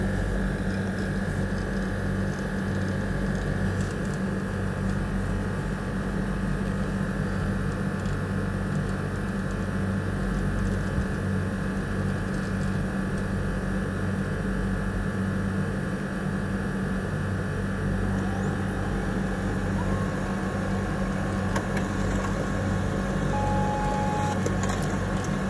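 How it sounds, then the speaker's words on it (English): A Brother Intellifax 2820 fax machine printing a received document produces a steady, continuous mechanical whir and hum with faint tonal whines, close and fairly loud throughout with no talking. "It's printing."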